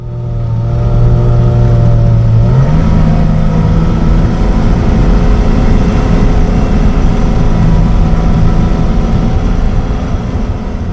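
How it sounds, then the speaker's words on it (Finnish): A loud, droning Bandvagn 206 tracked all-terrain vehicle engine heard from inside the cabin, revved at fairly high rpm, rising early and then holding a high, steady roar. "Moottoria huudetetaan kohtuullisen isoilla kierroksilla"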